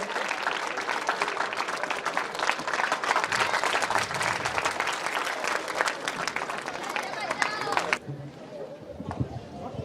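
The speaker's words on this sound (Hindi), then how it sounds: "आप सभी जोरदार ताली से उनका स्वागत करें।" An alumni-meet audience at a school gathering claps loudly to welcome the principal, a dense crowd applause that fades out abruptly near the end as a voice begins to speak.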